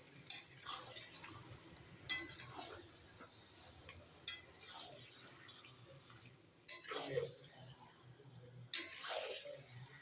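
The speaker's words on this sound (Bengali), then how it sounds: "মাংসগুলো সব ওর মধ্যে দিয়ে দিয়েছি। এখন ভালো করে কষতে থাকবো।" Meat is stirred and sautéed in a pan while cooking a low-oil curry, with scraping spatula strokes and sizzling clinks that come in bursts about every two seconds. It sounds close but soft, over quiet background noise.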